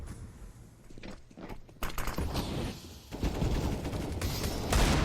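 Desert Eagle pistol shots and other gunfire in a professional CS:GO match, with sharp bursts of shots, mechanical clicks and rapid exchanges of fire growing louder toward the end, heard alone without speech.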